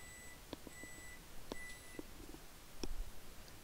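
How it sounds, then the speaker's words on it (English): Microwave oven beeps heard faintly in a room, several short tonal beeps spaced irregularly over a low background hiss, no talking. "apparently they can hear the microwave beeps"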